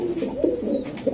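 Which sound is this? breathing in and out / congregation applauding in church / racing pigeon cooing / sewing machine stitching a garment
racing pigeon cooing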